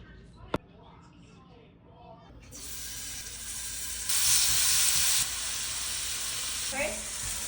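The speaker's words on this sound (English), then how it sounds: "Why does shrimp bubble?" Shrimp sizzle and bubble in a frying pan, a sudden loud hiss that swells, surges, then settles into a steady fizz, with someone talking over it.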